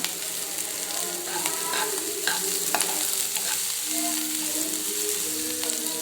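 Cauliflower sizzles steadily in hot oil, with occasional scraping and stirring sounds over the continuous frying hiss.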